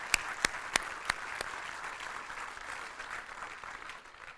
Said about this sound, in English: Can we give these kids a round of applause?